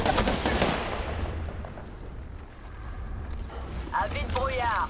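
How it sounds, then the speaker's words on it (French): Enemy gunfire in the video game Apex Legends, loud bursts of rapid shots at the start and again near the end, with quieter rumbling exchanges between. "L'ennemi me tire dessus."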